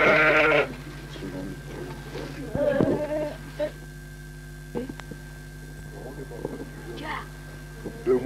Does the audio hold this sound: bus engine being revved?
no